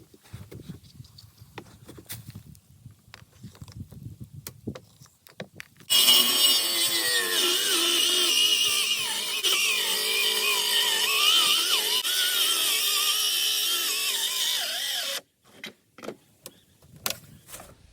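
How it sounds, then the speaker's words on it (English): A small power saw trims the end of a wooden board, laboring through the cut in one loud, continuous whining rasp of about nine seconds, framed by quieter handling knocks before and after. "That little saw was hating life on that cut."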